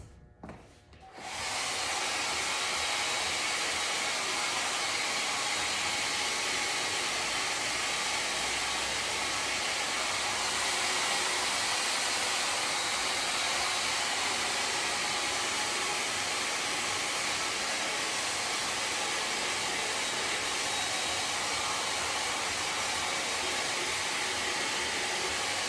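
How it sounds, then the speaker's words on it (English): A blow dryer drying paint roars steadily and loudly after a brief quiet start, a constant broadband whoosh with no talking. "Nicked the black with the blow dryer."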